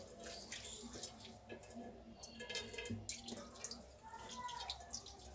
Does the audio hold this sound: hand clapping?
no